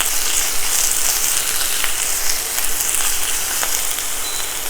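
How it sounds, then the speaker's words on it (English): Loud, steady sizzling from spinach frying in a very hot pan, a continuous hiss with faint crackles throughout. "Sorry for the loud sizzle."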